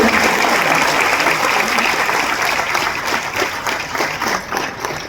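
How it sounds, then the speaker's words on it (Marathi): An audience at a Marathi theatre lifetime achievement award ceremony applauds loudly and without a break, a dense, even wash of many hands clapping. "टाळ्यांचा जोरदार गजर मला वाटतं आपण सुरू ठेवूया"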